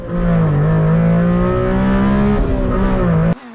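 A small Japanese kei car engine revs steadily with a buzzy, harmonic drone, rising slightly then holding, before cutting off abruptly near the end.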